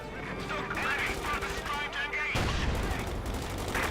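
Sturmgeschütz assault gun firing on paratroopers in the strategy game Company of Heroes 2, loud booming gunfire and crashing battle noise filling the short stretch, with a sharp burst near the middle, amid dense game effects and commentator talk.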